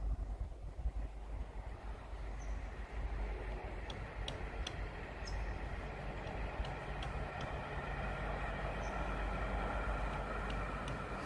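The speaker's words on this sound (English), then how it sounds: "train going down." Steady low rumble and rolling noise of a train passing at a distance, continuous throughout, with faint clicking ticks on top.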